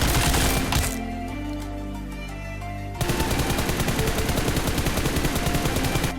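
Rapid automatic gunfire sprays in a PC shooter video game, first a short burst, then a pause with faint hum, followed by a long continuous spray of loud, evenly spaced shots.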